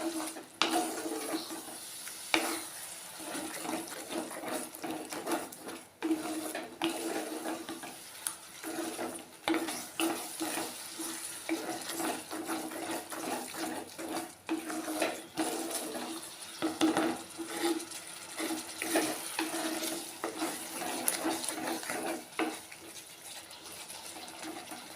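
Pulinchikka pickle with jaggery being stirred in hot oil: a steady low sizzle under soft scraping and occasional clinks of a spoon against the pan, continuous and close, with no talking.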